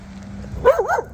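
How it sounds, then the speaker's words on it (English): A single dog lets out one short, whiny bark that rises and dips in pitch. It is close and fairly loud, and no one talks over it. "Stop barking. Hey, listen to me. Don't bark."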